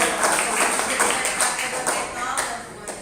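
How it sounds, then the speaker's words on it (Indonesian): An audience claps together at a gathering in Jakarta, a dense, steady patter of many hands that stays loud throughout, with a voice faintly mixed in. "Tepuk tangan untuk kita Indonesia"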